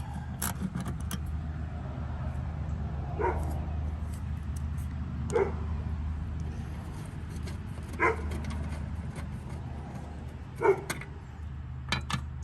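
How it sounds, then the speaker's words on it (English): A dog barks in the distance outdoors while an early-1970s Homelite T8 riding mower is being worked on. The barks come as four or five spaced single yelps over a steady low background hum. "There's a dog in the background."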